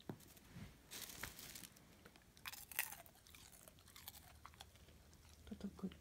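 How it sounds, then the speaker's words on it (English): A dog crunches popcorn: close, crisp crunching and chewing, irregular bites of something brittle, fairly quiet with faint rustling between crunches. "That's a good crunchy popcorn."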